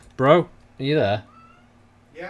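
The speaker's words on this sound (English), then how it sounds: "That was a cat." A cat meows twice close by, each call a drawn-out rising and falling cry, with a brief bit of a third at the end; a person talks softly in between.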